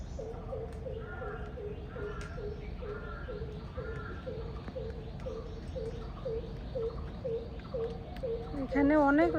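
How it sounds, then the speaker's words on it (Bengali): Birds call around a rural home garden with banana plants and betel nut trees, a steady repeating cooing like a dove or pigeon, close and clear, with a sharper call bursting in at the end and no talking. "এখানে অনেক রকমের পাখির ডাক।"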